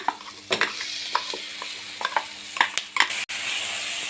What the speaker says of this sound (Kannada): ಈರುಳ್ಳಿಯನ್ನು ಸ್ವಲ್ಪ ಫ್ರೈ ಮಾಡಿದ ನಂತರ ನಾವು ರುಬ್ಬಿಕೊಂಡಿರುವಂಥ ಮಿಶ್ರಣವನ್ನು ಇದಕ್ಕೆ ಸೇರಿಸ್ಕೊಳ್ಳೋಣ